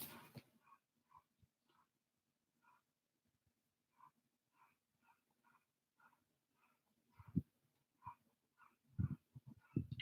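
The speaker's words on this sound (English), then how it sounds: "You can hear my neighbor's dogs barking at who knows what." A neighbor's dogs bark in the distance, faint repeated barks in an irregular rhythm, with a few closer muffled knocks and rustles near the end.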